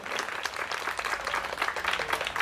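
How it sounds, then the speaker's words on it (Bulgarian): Guests clapping after a toast at a wedding celebration, a dense, lively patter of many hands, moderately close and steady throughout. "Аплодисменти!"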